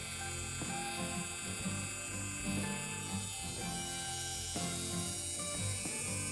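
A multifunction rotary engraver for small workshop and jewelry jobs runs steadily at its first speed, a continuous close mechanical whir with a faint ratcheting, gear-like buzz and small periodic bumps in loudness, with no talking.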